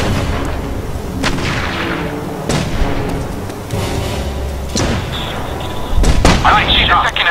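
Gunfire aimed at a sniper on a rooftop in The Saboteur video game: several loud, sharp shots spaced a second or two apart over a dense, rumbling game soundscape.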